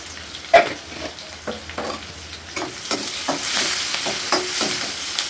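Onions fry in a pan with turmeric and salt, a continuous close sizzle broken by repeated spatula scrapes and taps, growing hissier toward the end with no talking.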